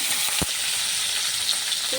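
Pointed gourd pieces fry in hot oil with salt and turmeric, giving a steady, close sizzle broken by a few sharp clinks of stirring.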